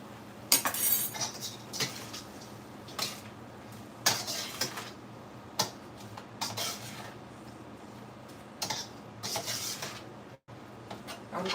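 A spoon stirring seasoning, including Goya adobo, into a pot of vegetables: scattered metallic clinks and scrapes against the pot, faint and intermittent, separated by quiet gaps with low background hum.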